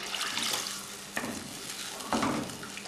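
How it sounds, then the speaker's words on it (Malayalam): Water poured into okra curry masala in a pan, a soft hissing, bubbling stream close up with a couple of louder splashy bursts, quiet overall and without talk. "അല്പം കൂടെ വെള്ളം ഒഴിക്കാം."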